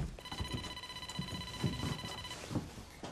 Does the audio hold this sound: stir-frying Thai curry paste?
no